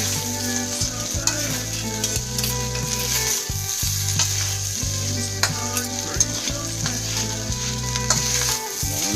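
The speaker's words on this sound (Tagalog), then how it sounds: "brown lang natin ito punto guys, na medyo ma-fried yung ating rice" Rice fries loudly in a pan, a dense continuous sizzle with repeated scraping strokes of a spatula as it is stirred and tossed.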